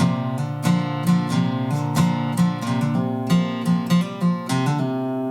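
Acoustic guitar plays a slow riff of plucked notes with quick hammer-ons, clear and close, strummed strings ringing between phrases.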